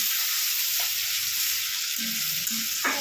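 Tomatoes fry in a pan with black cumin, salt and turmeric, a steady loud hiss of sizzling oil running throughout with a couple of faint low knocks near the end.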